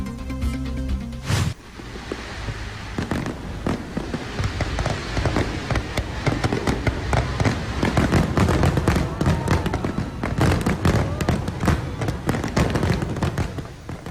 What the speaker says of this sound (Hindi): तकरीब के दौरान आतिशबाजी का भी शानदार मुजाहिरा।